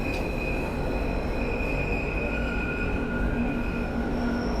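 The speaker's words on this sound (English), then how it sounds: "You can hear those wheel flanges really squealing away as they go around the corner." Steel wheel flanges squeal loudly as a London Underground Bakerloo line train rounds a sharp curve in Train Sim World 2, a steady high-pitched whine over a continuous rolling rumble.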